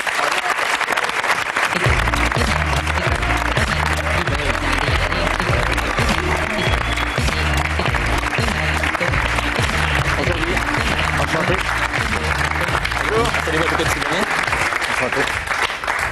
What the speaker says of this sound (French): Ça mérite peut-être quelques applaudissements.